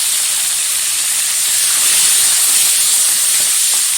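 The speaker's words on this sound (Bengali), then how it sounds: "চিংড়ি মাছটা হালকাভাবে ভেজে নেব" Salted, turmeric-rubbed prawns frying in hot oil, a steady loud hiss of sizzling that holds for the whole stretch with no pauses.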